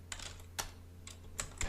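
Keys tapped on a computer keyboard in short separate bursts, close up and quiet, over a steady low electrical hum, with no talking.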